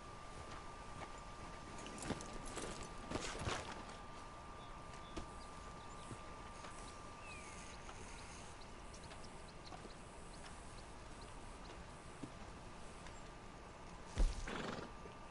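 Faint, steady clip-clop of a horse walking in the video game Red Dead Redemption II, with a few quiet snorts and a short neigh near the end.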